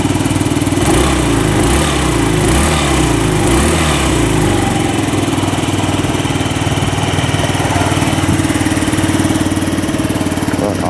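A 2018 Yamaha Zuma 50F scooter's small engine runs continuously up close, a buzzy steady drone with a pulsing rhythm early on that settles into an even idle.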